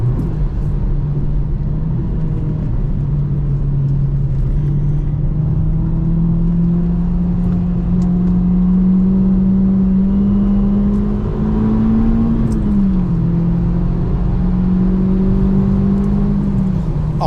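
A 2002 Ford Focus Mk1 ST is driven hard, its engine droning loud and close with a steadily rising pitch through the revs. A brief dip comes before it climbs again, all over heavy road rumble.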